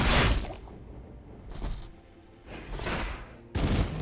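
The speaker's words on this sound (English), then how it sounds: "there's the Impaler cannon against these guys, and that was a Shockwave cannon" The Impaler cannon fires repeatedly in the Warhammer Battlesector strategy game, several loud booming blasts spaced about a second apart, with rumbling between them and no talk.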